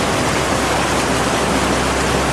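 Water pours over a waterfall into a hidden stream in Taita Taveta, Kenya, a loud, unbroken roar of rushing water that holds steady and close throughout, with no voices.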